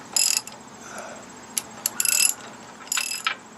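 Socket wrench with a 9/16 socket ratcheting on the pintle hitch of a 1954 Power Wagon, several short bursts of close metallic clicking separated by quiet gaps.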